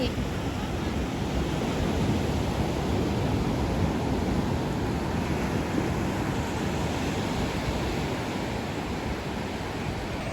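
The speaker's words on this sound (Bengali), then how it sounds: "একের পর এক ঢেউ উঠছে ঢেউগুলো এসে ভেঙে যাচ্ছে" Rough sea surf rolling in and breaking on the beach at Gopalpur, Odisha, a steady, dense wash of crashing waves with wind buffeting throughout, loud and continuous with no gaps.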